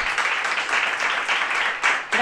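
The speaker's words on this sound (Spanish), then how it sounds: "Un aplauso para ella." Audience applause at a talk, a steady wash of clapping lasting a couple of seconds at moderate level, with no voices over it.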